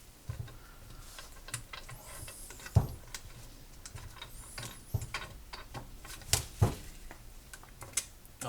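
Ratchet clicks in short irregular bursts while a 7/16 bolt is tightened during an upper control arm bushing and bump stop job, close and fairly quiet, with sharp metallic ticks and clanks and no talking.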